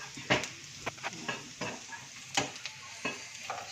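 Garlic and onion sautéing in a pan, with intermittent spatula scrapes and stirring strokes over a soft, continuous sizzle, heard up close without talk.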